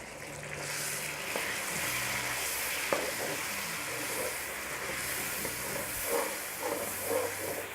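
Garlic ginger paste frying in ghee with chicken and onions in a pan, a steady close sizzle and hiss with faint stirring scrapes and no talking.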